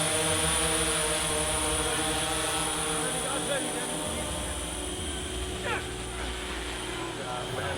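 A low-flying aircraft passes overhead on a stunt film set, a loud steady engine drone with a whining tone throughout, while people talk beneath the noise.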